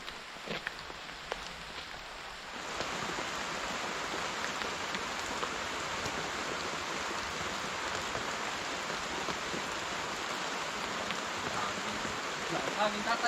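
Heavy rain falling outdoors during an eggplant harvest, a dense, even roaring hiss that swells after a few seconds of lighter patter and then stays loud and constant.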